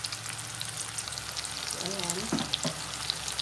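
Sweet potato fries bubble and crackle steadily as they float in hot cooking oil, a dense continuous sizzle with a brief voice speaking over it partway through.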